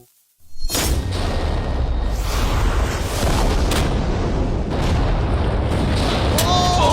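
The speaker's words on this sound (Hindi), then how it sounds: "तेज धमाका था।" A huge, loud explosion bursts in after a brief silence, then its roar fills the rest of the clip as a sustained rumble with a few sharp cracks.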